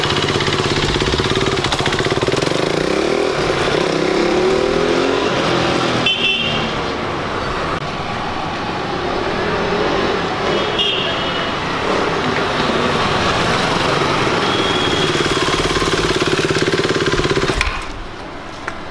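The engine of a KTM RC 390 motorcycle runs loud and close, a dense, steady roar that holds for most of the stretch and then cuts off sharply near the end, with no talking over it.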